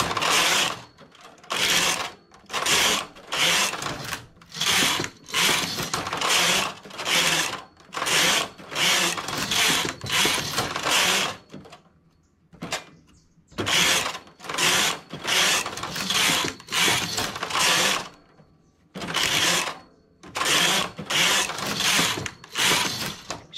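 A knitting machine works a lace round neckline: the carriage is pushed back and forth in a steady series of loud, rasping mechanical passes, each lasting about a second, separated by short pauses and one longer break.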